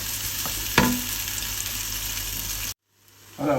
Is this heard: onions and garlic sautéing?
yes